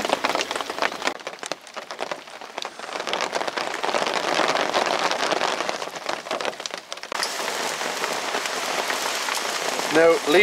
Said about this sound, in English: it's raining like you would not believe